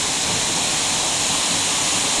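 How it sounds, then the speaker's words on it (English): A steady, dense roar of falling water fills the whole clip, close and unbroken, from behind Iceland's Seljalandsfoss waterfall. "We're behind the Seljalandsfoss waterfall."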